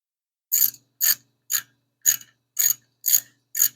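A torque wrench clicks seven times in an even rhythm while tightening the cylinder head bolts on a 5.7 Hemi engine built for a 1975 Plymouth Duster. Each sharp click stands alone and close against silence.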